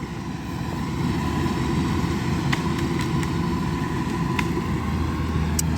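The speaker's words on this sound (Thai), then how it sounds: "วันนี้มาชมคูโบต้า DC 93G ครับ" A Kubota DC-93G combine harvester with a newly modified header runs with a steady, rumbling engine note that holds constant and close, with a few faint clicks and no talking.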